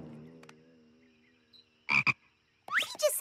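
A cartoon frog croaks in a few short bursts: a tonal call, then two quick rasping croaks, followed by another voiced croak near the end, close and clear.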